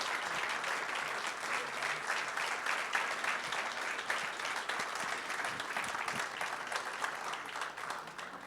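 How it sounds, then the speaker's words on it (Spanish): Audience at an international district energy conference applauds steadily throughout, a sustained wash of many hands clapping in a large hall with no voices over it. "Démosle, por favor, un fuerte aplauso."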